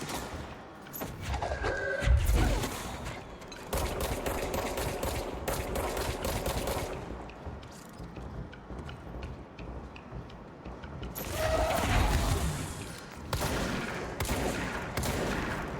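Gunfire from the video game Control, including shotgun blasts, comes in dense bursts and rapid volleys that fill the whole span, loud and close with short pauses between clusters.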